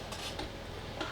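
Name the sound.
stirring fig preserves in a pot on the stove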